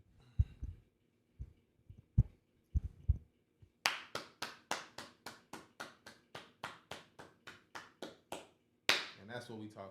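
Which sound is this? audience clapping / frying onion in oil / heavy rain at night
audience clapping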